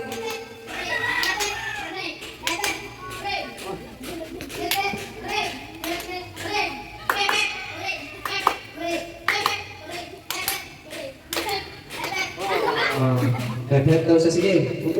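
Children clap their hands together in a group game, bursts of claps sounding repeatedly over about fifteen seconds amid kids' voices, talk and a few laughs.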